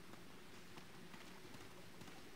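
Steady rain effect over a swamp area in the Demon's Souls video game, a dense continuous hiss with faint pattering, moderately quiet and unbroken, with no voices.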